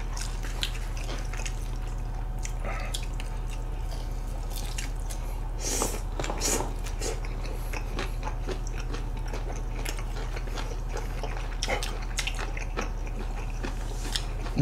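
Someone chews crispy fried food dipped in sauce, making steady close-up crunches and moist bites over a low constant hum, with no talking.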